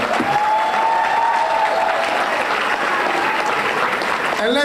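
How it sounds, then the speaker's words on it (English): Loud, sustained applause from a crowd at a live event, with voices speaking over the clapping throughout. "can you give my pops a round of applause"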